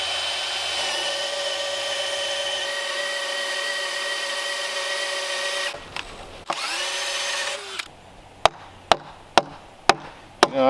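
Timber-framing work on a wooden joint, opening with a steady whirring power-tool drone that cuts out, then a series of sharp, evenly spaced chopping knocks into the wood, close and loud.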